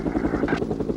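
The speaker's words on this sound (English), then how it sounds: "the helicopter picks up the criminal behind the fence and follows him into a wooded area" Police helicopter flying overhead during a car chase, its rotor thumping in a fast steady beat, loud and continuous with no talk.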